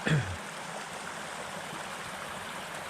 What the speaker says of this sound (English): I heard the creek running pretty good